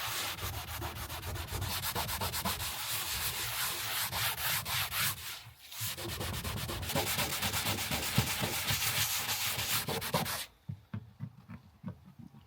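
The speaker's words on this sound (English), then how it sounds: "just green Scotch-Brite dishcloth, which is just a little coarse. You can see it just lifts some of that, just scratches the paint" A green Scotch-Brite dishcloth scrubs steadily across old painted bodywork on a Tijuana Taxi during a tidy-up, giving a loud, continuous rhythmic rasping with a short pause midway, then stopping and leaving a few quieter scuffs.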